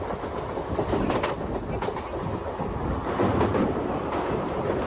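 The Krishna Express, a Tirupati to Secunderabad train of ICF coaches pulled by a WAG-9 locomotive, rumbles loudly from inside a sleeper coach, with steady clickety-clack rail joints and wind noise throughout.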